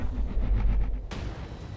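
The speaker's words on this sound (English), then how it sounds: "Oh, ammo explosion," Ammo explosion on a mech in the RogueTech mod of BattleTech: a heavy, rumbling blast that rolls for about a second, followed by a sharp crack and a high metallic ring.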